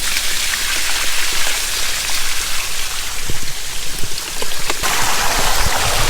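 Leaky irrigation pipes in a field spray and trickle water in a steady, loud, rain-like hiss with scattered patters, and no one speaks.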